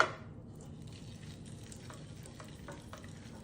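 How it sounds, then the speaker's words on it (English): Polenta sizzles and crackles in hot oil, a quiet, steady frying hiss with occasional pops and a bit of stirring. "We want it to be warm enough when we add the polenta that we hear a good sizzle."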